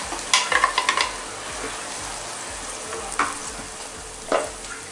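Tomato puree with garlic frying in a pan for Amritsari pindi chole, a steady close sizzle with several quick stirring scrapes at the start and a couple more later.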